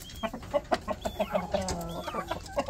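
A laying hen clucks repeatedly in short, rhythmic bursts, close by in a small backyard poultry yard, with a few higher squawks mixed in and other fowl faintly around.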